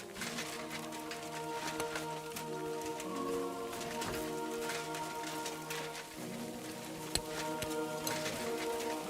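Steady rain falls throughout a medieval roleplay video game scene, a continuous wash of patter blended under a sustained musical score with no pauses.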